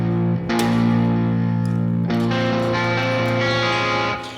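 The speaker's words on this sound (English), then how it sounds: "I've got the room on this one cranked up." Electric guitar chords through a Neural DSP John Mayer X amp plugin with a 57 mic and the room impulse response cranked up, loud and distorted, two strummed attacks ringing out with heavy reverberant sustain.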